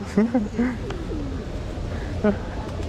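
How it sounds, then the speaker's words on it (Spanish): Pigeons cooing in a public plaza in El Salvador, several low, throaty coos in short bursts, close and clear over faint outdoor city murmur. "Y hay bastantes palomas como cada plaza del mundo."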